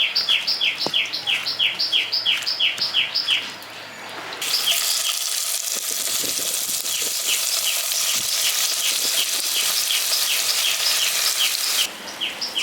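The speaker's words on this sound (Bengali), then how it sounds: "এবার এটাকে আমি হালকা করে ভেজে নিচ্ছি।" Prawns seasoned with salt and turmeric fry lightly in a village-style kitchen, a steady loud sizzle filling the scene while birds chirp in rhythmic bursts nearby early on.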